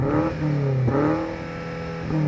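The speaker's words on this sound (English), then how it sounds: "let's do a quick sound check. So, BMW M8 competition." A BMW M8 Competition engine revving up repeatedly against a soft limiter, the pitch climbing and dropping between rises, with a steady idle rumble beneath.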